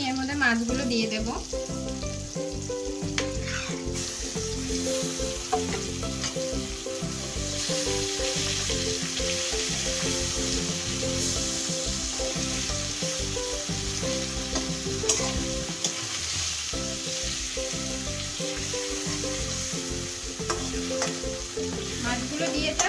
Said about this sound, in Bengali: পটলটা যখন হালকা ভাজা হয়ে যাবে